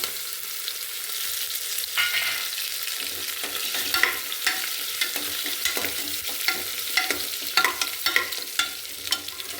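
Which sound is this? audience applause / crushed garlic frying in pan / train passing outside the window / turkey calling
crushed garlic frying in pan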